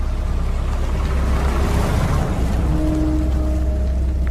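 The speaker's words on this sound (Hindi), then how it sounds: "आसमान में काली घटा छाई हुई थी, जोरों से बारिश होने लगी थी।" Heavy rain pours down in a dense, loud, unbroken hiss with a low rumbling undertone, steady throughout with no voices.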